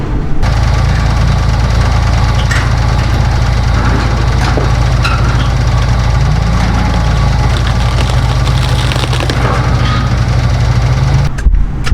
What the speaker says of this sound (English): I got the skid in there now